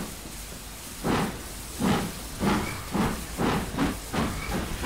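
A King Class steam locomotive in a railway simulation game gives rhythmic chuffing steam bursts, about six evenly spaced hissing exhaust beats that gradually quicken as it pulls away, close and clear with no talk.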